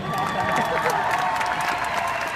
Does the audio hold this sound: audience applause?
yes